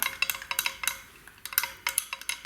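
Lipstick ingredients, with a couple of tiny scoops of colour added, are stirred in a small mixing container, making a quick run of close, crisp clinks and scrapes in an uneven tapping rhythm.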